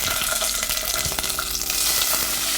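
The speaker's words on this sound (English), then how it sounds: "so you can hear that sizzling" Steady, crackling sizzle of bell peppers frying in hot olive oil, close up, with occasional stirring scrapes and pops, no voices.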